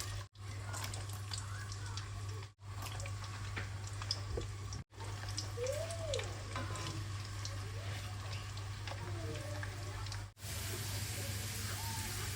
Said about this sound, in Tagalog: I am making chicken oil.